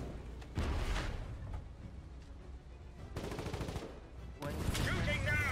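Gunfire rattles in the war game Foxhole, with bursts of automatic shots and booms in a few loud clusters while a player talks between them.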